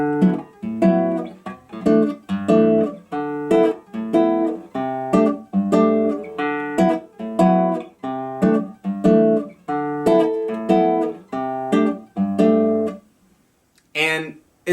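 Acoustic guitar playing a bossa nova rhythm on a C6-9 chord, with clear syncopated plucked chords repeating steadily and close, stopping near the end.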